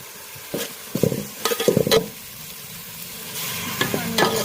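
Tomato paste with ground chili, cumin, coriander and salt sizzles in a pan for a soybean and potato curry, with a utensil scraping and stirring in close bursts before the frying settles into a steady hiss.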